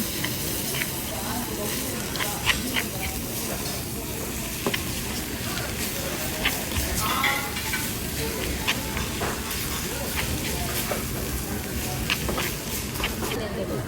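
Rice sizzles and crackles steadily in a hot stone bowl of bibimbap at a grilled-meat restaurant, a continuous hissing fry sound with scattered pops, while people talk nearby throughout.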